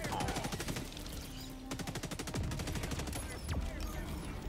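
Rapid sustained automatic gunfire shooting alien eggs in the co-op shooter Helldivers 2, dense rattling bursts continuing throughout, loud and close, with game effects layered in.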